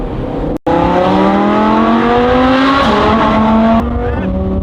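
A supercar accelerating through a small tunnel in Amsterdam, a loud, close engine roar with rising pitch that climbs through a quick gear shift, echoing off the tunnel walls, with no talk.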